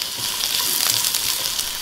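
Chopped onions fry in refined oil for kadai paneer, a dense, steady, close hiss and crackle of sizzling with small popping flickers throughout.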